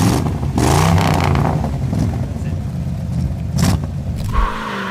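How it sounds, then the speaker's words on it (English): A 1969 Dodge Charger SE muscle car engine rumbles loudly with a deep, throaty growl, rising in bursts as it revs, close and alone with no voices. "With that power and that engine growl, the Charger SE is truly a piece of muscle car history."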